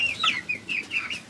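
A chicken clucks in short bright bursts, four or five quick calls in a row, close and clear over a quiet background.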